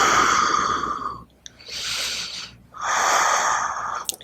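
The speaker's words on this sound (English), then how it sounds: "Deep breaths." Deep breathing during a yoga standing splits pose, with two long, loud, close breaths separated by short pauses, each one airy and wheezy.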